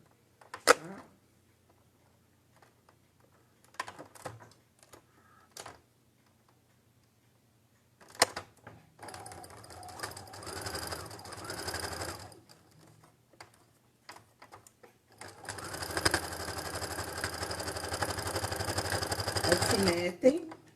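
A sewing machine stitches a straight seam on quilt patchwork, running in short bursts and then a longer steady run near the end, with someone speaking quietly in between.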